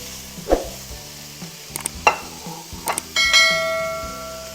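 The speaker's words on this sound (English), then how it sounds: "we're going to render our bacon" Bacon rendering in a hot skillet, giving a few short sizzling bursts with light clanks of the pan and a sustained ringing tone near the end, fairly close, with no talking.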